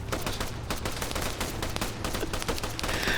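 In the military video game Arma 3, a dense fusillade of automatic gunfire rattles on steadily, with rapid overlapping shots in a loud, busy mix.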